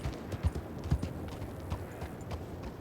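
A horse in a Rockstar video game clip-clops along at a slow, irregular walk, with a few louder hoof strikes over a soft background murmur.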